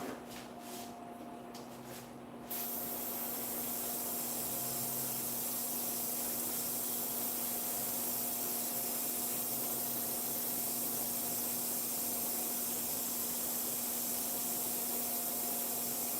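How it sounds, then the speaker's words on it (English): An airbrush sprays paint onto a model car for the Gaslands tabletop game, first in a brief sputtering burst and then as a loud, continuous close hiss that holds steady to the end. "Always an adventure in airbrushing."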